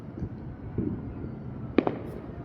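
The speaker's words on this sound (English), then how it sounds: "That's fireworks." Fireworks go off in the distance as a low, continuous rumbling bed with a couple of sharper pops near the end, fairly faint and with no one talking over them.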